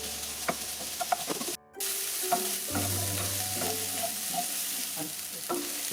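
Chopped ginger and garlic fry and sizzle in a pan, with steady crackling, scattered utensil clinks and stirring scrapes, and a short silent gap partway through.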